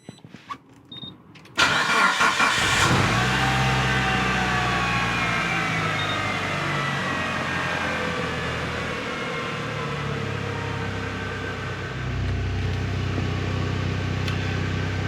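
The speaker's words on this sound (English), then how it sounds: "So I'll start it up for you so we can see." A Mitsubishi Lancer Evolution that has been sitting for months cranks and fires up after a few quiet clicks, then settles into a steady, close idle with a slight shift in tone near the end.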